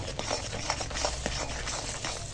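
A spoon scrapes and stirs through prawn curry in a pan as garam masala powder is mixed in, soft repeated strokes over a faint steady sizzle.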